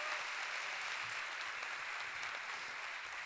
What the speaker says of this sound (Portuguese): Quem pode dar mais um aplauso a Jesus?